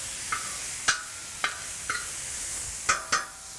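Onion cooking on a DISC-IT disc cooker gives a soft, steady sizzle, broken by five or six sharp metallic scrapes of stirring at uneven intervals, with no talk.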